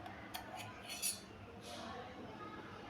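A metal spoon lightly clinks against dishes in a home kitchen, a few faint scattered taps over soft background noise.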